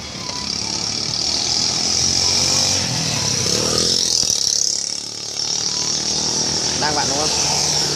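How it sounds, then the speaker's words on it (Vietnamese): A motorcycle engine revs up and eases off as the rider twists and releases the throttle, a loud, close, buzzing roar rising and falling under a voice giving instructions. "Vặn tay ga"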